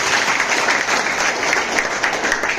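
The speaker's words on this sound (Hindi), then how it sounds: "एक बार फिर से सर की जोरदार ताली होना चाहिए।" A large seminar audience in Dumka breaks into loud, sustained applause for a leader, a dense unbroken wash of clapping held steady for the whole stretch.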